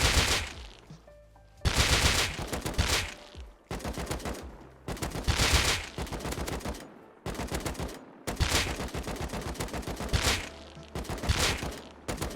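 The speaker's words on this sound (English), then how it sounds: "So this is shooting the AK while you're sitting down." AK rifle fire in the game Rust, shot while crouched: several loud, close bursts of rapid automatic shots, each lasting a second or two and separated by short pauses.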